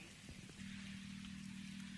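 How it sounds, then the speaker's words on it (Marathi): Rain falls on a sixteen-acre soybean farm field as a faint, steady patter under a low continuous hum. "पाहू शकता हे पाऊस पडायला"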